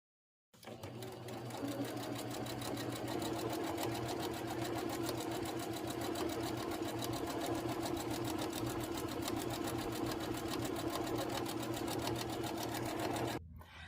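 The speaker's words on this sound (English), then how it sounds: "After I got the design sewn on the front of the tea towel" A sewing machine stitches a design onto a tea towel, running close up in one long, steady rapid chatter from start to finish.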